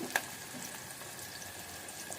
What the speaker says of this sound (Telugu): ఆయిల్ కూడా వేడైంది కదా. ఇప్పుడు ఆనియన్స్ వేద్దాము.